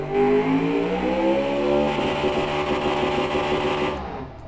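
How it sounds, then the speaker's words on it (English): A high-revving, large-displacement V8 engine in the car-building game Automation roars loudly and steadily, its pitch climbing and holding before dropping off near the end; no talking. "the coolest engines out there are super high revving V8s, especially large displacement"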